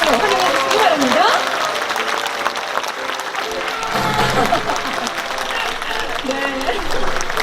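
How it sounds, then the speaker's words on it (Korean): A crowd at a book launch talk concert claps and cheers to welcome an author onto the stage, sustained applause with a host speaking over it. "큰 박수로 환영해 주시기 바랍니다."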